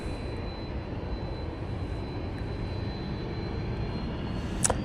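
An airliner bound for Palma takes off from Manchester Airport, a steady broadband jet roar with a faint high whine, heard alone without talk.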